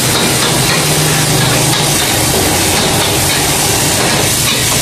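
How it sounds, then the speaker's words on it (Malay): Char kway teow noodles frying in a hot wok, Penang style, a steady broad sizzle with scraping and clatter running continuously and loud throughout, no talking. "Goreng sekarang dulu bagi masak."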